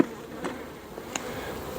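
Calm honeybees hum around their hive in a short, even drone, with a couple of light taps and flickers over the steady buzz.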